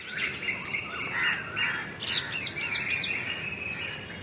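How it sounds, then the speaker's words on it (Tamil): Parrots and koels call outdoors in nature, a wash of chirps and squawks with a run of four sharp rising whistles near the middle, moderately close and clear. "கிளிகள் குயில்கள் எல்லாம் என்னை அழைக்கின்றது பேரன்புடன்"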